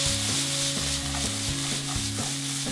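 Diced onions sauté in oil in a pan over medium heat, giving a steady broadband sizzle beneath sustained, stepping musical chords throughout, with no speech.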